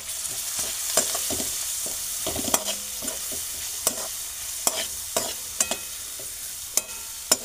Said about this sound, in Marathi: आता मी हे ढवळून घेतो.